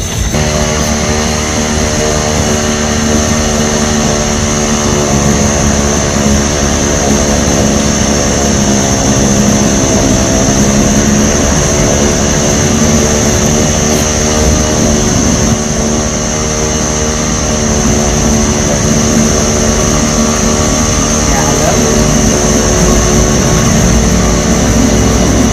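A chainsaw engine runs steadily at a constant, loud drone for the whole stretch, close to the listener, while a tree crew fells long timber. No talk and no changes in pitch stand out.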